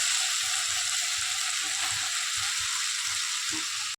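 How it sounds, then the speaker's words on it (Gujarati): Onions and tomatoes fry in a pan with a steady, close sizzle throughout, broken by soft, regular scrapes of stirring, with no voice. "હવે આપણે ડુંગળી અને ટમેટા એકદમ સરસ રીતે સતરાય અને ફ્રાય થઈ ગયા છે"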